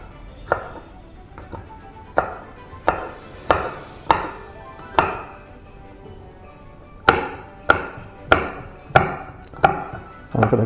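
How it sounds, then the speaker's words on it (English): A knife chops chillies and pepper on a board while making chilli jam: a dozen crisp, evenly paced thuds, close and clear, with a short pause midway and no voices. "the next thing I'm going to do is to chop up the chilies and the pepper"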